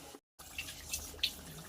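Water is poured into a mushroom curry cooking in a pan, giving a faint, brief trickling splash. It follows a short silent gap and comes with a few soft clinks.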